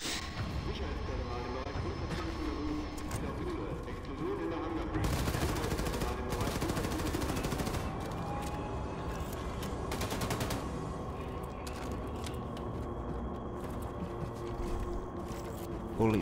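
Rapid gunfire from two dual-wielded guns in the shooter Wolfenstein II: The New Colossus, dense bursts of shots over a steady game soundtrack, loudest in a strong barrage around the middle, with a voice talking over it.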